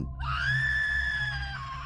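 A woman lets out a single sustained, piercing scream in a spooky storytelling scene, loud and close, rising then holding steady for nearly two seconds over a low rumble.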